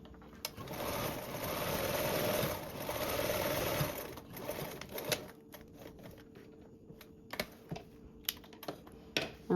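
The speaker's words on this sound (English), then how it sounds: "we're going to baste along the two sides" A sewing machine basts along two sides of a garment, running in a fast steady whir for about four seconds, then stopping and starting in short bursts mixed with clicks and handling, close and moderately quiet.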